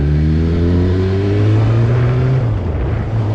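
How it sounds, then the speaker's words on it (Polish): A motorcycle engine revs in a sharp throttle blip during a downshift to third gear, with strong steady harmonics that climb and then drop back, loud and close with no talk. "mamy 30 obrotów, to podbijamy te gaz"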